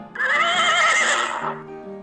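A horse, presented as a farm animal, lets out a single loud, close whinny lasting under two seconds, its wavering cry trailing off into a steady low tone.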